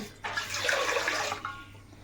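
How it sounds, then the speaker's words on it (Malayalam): Water poured into a cooking pot set on the stove, a brief rushing gush lasting about a second, fairly close and moderately loud, stopping abruptly with no talking. "ആദ്യം ഞാൻ ഒരു പാത്രം വെള്ളം ഊറ്റിയാണ്"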